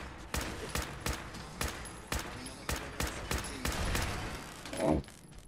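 Rifle gunfire in Fallout 4, sharp loud shots fired in a fairly steady rhythm, about a dozen cracks over several seconds, with faint game ambience between them.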